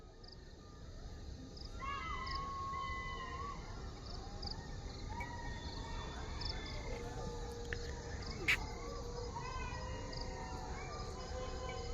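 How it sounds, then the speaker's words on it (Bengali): Crickets and other night insects call around Jhaluarber railway station in Domjur, Howrah, at dusk, steady faint trills and scattered chirps forming a quiet, continuous background with no talking. "ঝিঝি পোকার ডাক"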